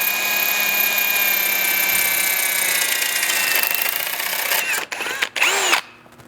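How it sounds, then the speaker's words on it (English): A loud, steady power drill whines continuously while drilling a pilot hole in car body sheet metal, then stutters in short bursts near the end as the bit bites and stops. "With a pilot hole drilled,"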